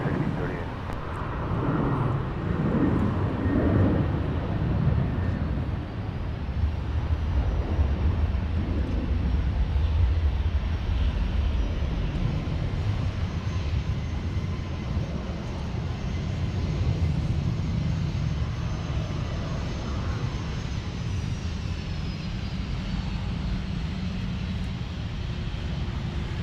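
A Southwest airliner taxis at Minneapolis–Saint Paul airport, its jet engines a loud, steady roar that swells and holds for a long stretch, with radio chatter faintly mixed beneath.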